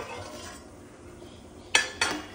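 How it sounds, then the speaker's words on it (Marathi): A lid goes onto a cooking pot of Goan alsande tonak, two quick metallic clinks close together near the end after a stretch of quiet kitchen hiss. "10 मिनटां खातीर हांव गॅस मिडियम फ्लेमीचेर दवरून धाकून घेता"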